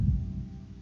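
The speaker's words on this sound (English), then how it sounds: "I didn't like that heart pounding noise" A pounding heartbeat sound effect from the visual novel game Katawa Shoujo, low throbbing thumps repeating close and fairly loud for under a second, with no talk over it.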